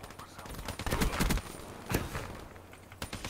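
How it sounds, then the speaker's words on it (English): Black Ops 3 gunfire in a multiplayer match: rapid, close bursts of shots cluster together, then scattered single cracks follow over a faint game background, with no voices. "I'm being shot in the back as well."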